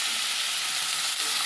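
Washed mutton hitting a hot pan with ginger garlic paste and turmeric, loud continuous sizzling and frying with light stirring, no talk.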